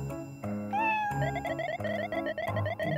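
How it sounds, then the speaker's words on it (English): A cat meows in the horror video game Blackout: House of Horrors. Short, rising cries come through a dense, steady layer of tonal game music, with no talking. "Oh, it's a cat!"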